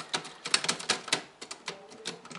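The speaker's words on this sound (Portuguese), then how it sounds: "Olha só, máquina de escrever pra quem não conhece." An old manual typewriter clacks through a quick, irregular run of sharp keystrokes, close and clear, with no talking.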